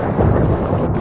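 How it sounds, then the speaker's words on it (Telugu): A deep rumble of thunder over dense, heavy rain, loud and continuous through the short stretch with no voices. "ఆ రోజు చివరి రోజు మాత్రం ఉరుములు మరియు మెరుపులు. వర్షం జోరున ఇంకా ఎక్కువగా పడుతూ ఉంది."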